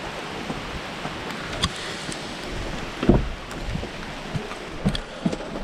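Rain falls outdoors in a steady hiss, with scattered louder drops and a few thumps, while work is done on a Mini Cooper's fuel system.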